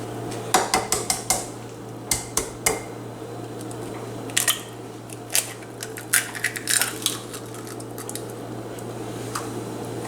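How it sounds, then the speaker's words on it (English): Eggs cracked one after another for cupcake batter, sharp little taps and clicks against a bowl in irregular bursts over a steady low hum, close and crisp with no voices. "So you're gonna crack the eggs."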